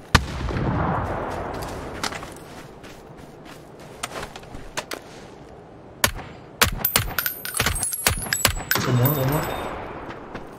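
Grenade explosion during a PUBG match on the Taego map: a heavy blast opens, followed by scattered gunshots and clattering game effects, with voices talking over the action.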